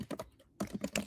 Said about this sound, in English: I'll start typing it.